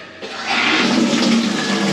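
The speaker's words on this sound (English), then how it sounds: "let's pop the water back onto it" Water rushes steadily into a toilet cistern as it refills after a new flexi hose has been fitted to the valve, a loud, close hiss and gurgle that swells after a quiet start.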